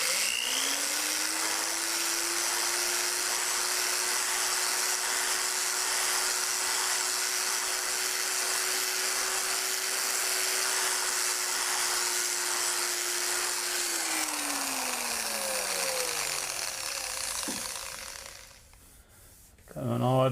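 A rotary sanding pad on a power tool whines at a steady pitch while sanding a Smart ForTwo headlight, then spins down near the end before a brief silence.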